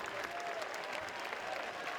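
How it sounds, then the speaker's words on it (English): A crowd at a college baseball game between Kentucky and Vanderbilt breaks into steady, dense applause in the stands, a continuous clapping roar filling the moment without any clear voices. "gets a big round of applause for that 10-pitch at bat"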